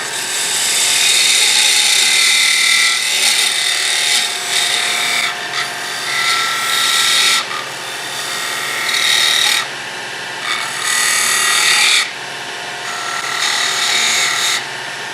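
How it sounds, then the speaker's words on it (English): Wooden lidded box spinning on a lathe as a detail gouge cuts and finishes inside it, a loud continuous raspy scraping that surges and pauses in bursts, with no talking. "Now I'll have to go back to the detail gouge to finish that down in here."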